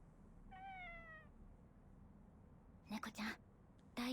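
A single clear meow from a cat in the Jujutsu Kaisen Phantom Parade video game, thin and drawn out over quiet background, followed later by short bursts of voice.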